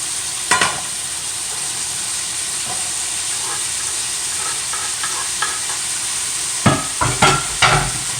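Vermicelli noodles browning in a hot pan with chopped onion, seasoned with comino, give a steady close sizzle with a few scattered scrape clicks, then a cluster of sharper stirring scrapes near the end.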